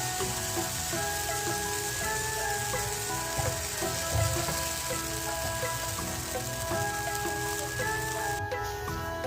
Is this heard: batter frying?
yes